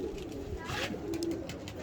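Pigeons in a breeder's loft give soft, low cooing calls under steady background noise and faint voices.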